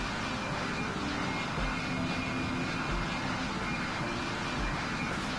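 An Airbus airliner takes off in a flight simulator game, its engine roar a steady, dense broadband drone held at constant loudness throughout, with no talking.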